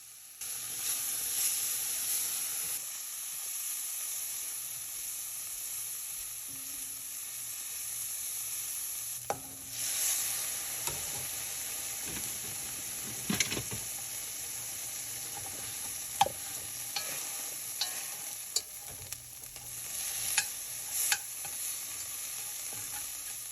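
Spiced lentils sizzle and hiss steadily in a hot frying pan, with the soft scrape and clink of a spoon stirring them at intervals, close and fairly quiet with no talking.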